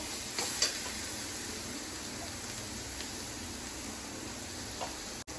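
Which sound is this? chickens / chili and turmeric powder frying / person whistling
chili and turmeric powder frying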